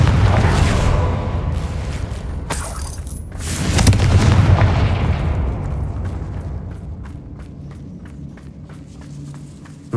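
A Confringo spell in the Hogwarts Legacy video game blasts with loud booming explosive bursts, a heavy impact near the start and a larger swell around four seconds, then rumbling debris and scattered crackles fading out.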